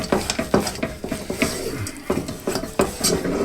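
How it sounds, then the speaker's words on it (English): A spoon scrapes and knocks against a pan while peanuts are stirred for Indian peanut chikki, in regular near clinks and scrapes with rustling nuts between them. "give them a good stirring"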